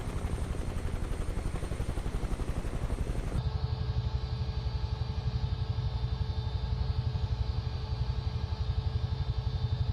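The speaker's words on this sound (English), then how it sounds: "I think this helicopter designed to just throw it about." A Huey helicopter in a multiplayer flight simulator game thumps steadily with rotor beats and a turbine whine, loud and continuous, its tone shifting abruptly a few seconds in.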